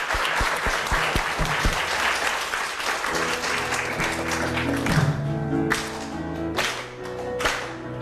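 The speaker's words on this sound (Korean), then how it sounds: "주님께 큰 영광의 박수 올려드리면서" A church audience applauds at the close of a worship program, with a brisk wash of clapping that carries on steadily as sustained tones of music and singing rise beneath it and a few sharp individual claps stand out.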